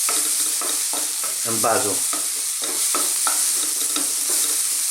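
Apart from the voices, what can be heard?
tuna and bean chili ingredients cooking in a pan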